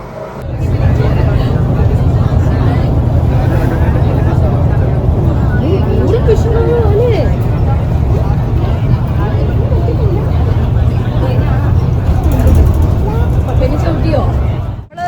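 Bus crossing from Singapore into Malaysia, a loud steady engine drone and low rumble from inside the vehicle, unbroken for fifteen seconds, with voices talking over it.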